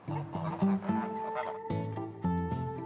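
Geese, ducks and other poultry roaming a walnut orchard on a family farm, with several close honking and clucking calls in short overlapping bursts over a steady outdoor background.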